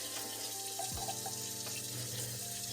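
Pasta cooking water for shells and cheese drains through a strainer in a kitchen sink, a steady close rushing pour of water over about three seconds with no talking.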